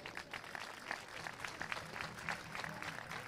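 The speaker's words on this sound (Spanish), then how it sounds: "Un aplauso para los pendones." A crowd applauding the pendones concejiles, the banners of the León comarcas, at a Día de León celebration in Seville; steady, fairly faint, distant dense clapping throughout.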